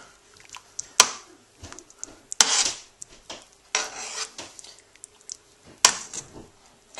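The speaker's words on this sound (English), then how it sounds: "Now I'm going to add these green onions to it. And just stir those in a little bit." A spoon stirs green onions into a pot of Cajun chicken and sausage gumbo, giving irregular scraping and rubbing strokes with a few sharp clinks against the pot; no one speaks.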